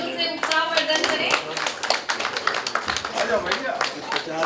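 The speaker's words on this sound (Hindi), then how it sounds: "कृपया जोरदार तालियों से उत्साहवर्धन करें" A crowd at a family get-together claps loudly, a dense run of sharp hand claps that keeps going throughout with little pause.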